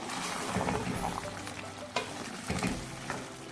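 Chicken jalfrezi gravy sizzles and fries in a pan, a steady crackling hiss with a few louder scrapes and clinks as a spoon stirs the thickening sauce.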